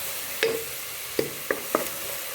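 Spices and green chillies fry in a pan for a mutton curry while a spoon stirs them, giving a low sizzle with four distinct metallic scrapes and taps, spaced unevenly and fairly close.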